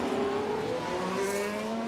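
Formula 1 race cars from the F1 Manager 24 game at the Bahrain Grand Prix scream past in a sustained high-revving engine whine. The pitch glides smoothly upward and then dips, a steady, fairly loud drone with no talk.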